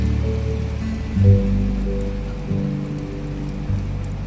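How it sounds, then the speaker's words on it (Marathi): Rain falling at a station in the Konkan monsoon, heard from inside a train, with drops striking the window; a soft, steady patter with a few low thumps, no talking. "खिडकीवर पण पावसाचे थेंब आदळत होते."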